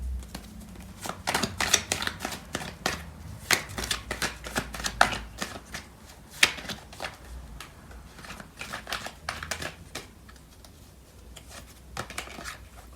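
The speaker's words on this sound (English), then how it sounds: "So I'm going to pull out some more cards to clarify." Tarot cards being shuffled and drawn, a run of crisp snapping and riffling clicks in irregular bursts, close and fairly quiet, with no talk.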